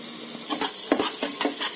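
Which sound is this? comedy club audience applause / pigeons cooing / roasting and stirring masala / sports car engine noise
roasting and stirring masala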